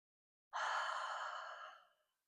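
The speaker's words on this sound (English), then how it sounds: "taking in a nice deep breath in." A single long, deep breath drawn in during a standing exercise warm-up, close and breathy, rising quickly then tapering off smoothly over about a second and a half.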